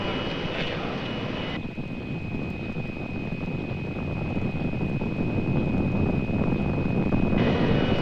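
Rocket lift-off at Kennedy Space Center in 1968: a loud, sustained broadband roar with wind buffeting that holds steady and swells slightly over the whole stretch, with no voices heard.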